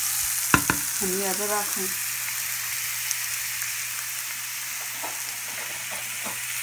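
Chopped green chili, onion, ginger and garlic fry in a pan with a steady, hissing sizzle throughout, a few sharp clatters near the start, a brief voice, and soft stirring taps toward the end.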